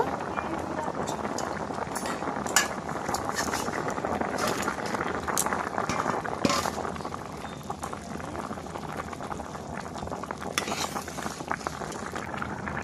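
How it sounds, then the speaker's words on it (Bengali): A thin village-style curry of potato and plantain, about to receive pond fish, bubbles at a steady rolling boil, with dense continuous bubbling and small pops close up throughout. "তরকারি বন্ধুরা ফুটে উঠেছে এবার মাছগুলো দিয়ে দেব"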